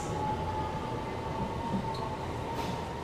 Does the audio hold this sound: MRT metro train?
yes